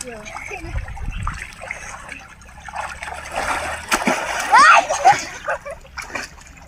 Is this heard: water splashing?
yes